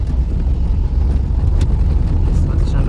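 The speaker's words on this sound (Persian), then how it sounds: "از تمام قطعات کابین داره سر صدا میاد" Cabin noise in a moving Peugeot 206 Type 2 driving in the rain: a steady low road and engine rumble with a broad hiss, continuous and close throughout.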